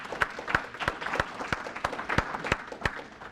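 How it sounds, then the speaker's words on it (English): Modest applause at a public safety news conference, a thin scattering of claps in a large room, with a few sharp, evenly spaced hand claps standing out over the softer rest, fairly faint. "our dedicated partners with NMS all deserve a round of applause for all their great efforts and dedication"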